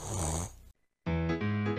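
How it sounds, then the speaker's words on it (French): A young man snoring while asleep: two close, rumbling snores separated by a brief silence, clear and alone. "Est-ce que le garçon dehors s'est endormi? Une des filles passa la porte et regarda le jeune homme. Tu n'entends pas? Il ronfle."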